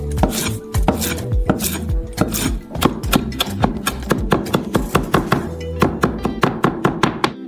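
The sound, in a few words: chopping mint with a knife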